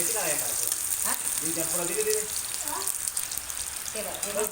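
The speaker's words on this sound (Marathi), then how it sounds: "आता आपल्याला थोडीशी मिरची टाकायची" Chilli drops into hot oil in a pan while cooking hakka noodles, giving a loud, steady hiss and sizzle throughout with faint voices underneath.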